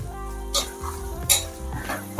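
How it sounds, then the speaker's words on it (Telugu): Onions frying in a pan with rock salt while cooking Thiragabatha annam, a soft steady sizzle broken by a few louder stirring scrapes and clinks of a spoon against the pan. "సో ఆనియన్స్ కొంచెం ఫ్రై అవ్వాలి."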